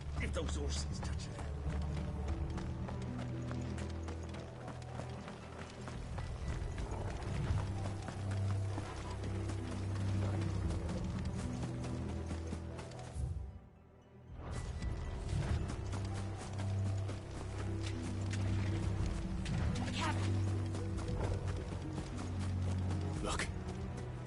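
Horse hooves clip-clop steadily through a Final Fantasy XVI game scene, rhythmic and mid-distance, with creaking mechanical sounds and voices talking over them throughout; a brief dip near the middle.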